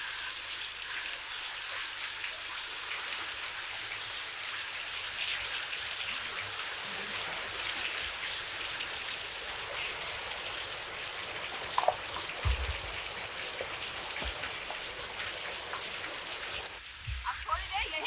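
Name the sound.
heavy rain falling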